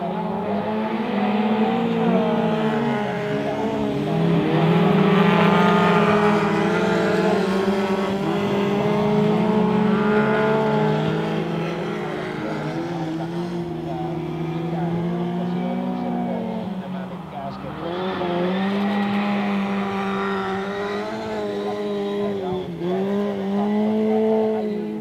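Folk race cars running laps on a winter track at Pieksämäki, Finland: loud, steady engine drone with shifting revs, rising and falling as cars pass, while a commentator talks over it throughout.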